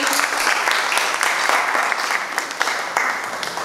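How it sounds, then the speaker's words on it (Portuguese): A church congregation applauds after a Gospel reading at an evening worship service, a steady dense wash of many hands clapping that fills the room without pause. "Vamos aplaudir a palavra de Deus"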